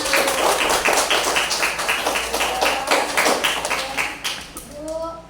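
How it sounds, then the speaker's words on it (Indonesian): A school class claps hands together in a classroom, a brisk series of rhythmic group claps that slows and fades, with a voice speaking faintly underneath and at the close. "Tepuk tangan untuk kita semua."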